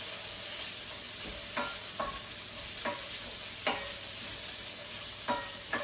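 Spring onions sizzle in a hot frying pan with a dense, constant hiss, broken by several sharp spatula scrapes and taps as they are stirred, close and fairly loud with no talking.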